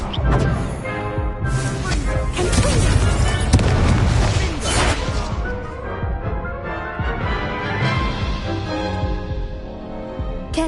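A fire spell blast from the wand in the Hogwarts Legacy video game, a loud booming burst heavy in the low end, running through a dense, busy mix of game effects and music that tails off toward the end.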